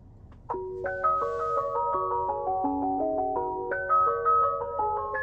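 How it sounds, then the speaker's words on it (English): Ice cream truck jingle played as a sound effect by a 2021 Tesla Model Y, a bright chiming melody of clean electronic tones, clear and steady, with no talking. "So I can sound like an ice cream truck."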